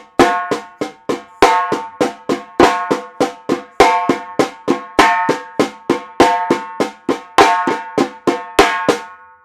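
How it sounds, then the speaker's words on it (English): Samba drums play a steady, driving pattern of crisp, ringing strikes, with accented beats and lighter notes falling between them. The hits are close and loud and repeat evenly with no talking. "On the drums, it sounds like this."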